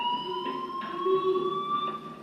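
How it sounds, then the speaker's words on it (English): A fire alarm in the video game Life is Strange rings as a steady, continuous electronic tone at moderate volume, with no talking over it. "do you hear that fire alarm?"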